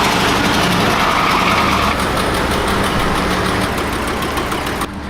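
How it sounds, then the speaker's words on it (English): A loud, rough truck engine with a bad exhaust leak idles steadily up close, its harsh, sputtering exhaust rattling throughout with no voices. "it's got a really bad exhaust leak and it sounds absolutely horrible"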